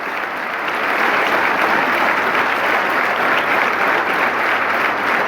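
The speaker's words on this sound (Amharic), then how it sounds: "ለዚህ ጌታ አጨብጭቡለት።" A church congregation breaks into loud, sustained clapping that builds within the first second and holds dense and even throughout, with no talking over it.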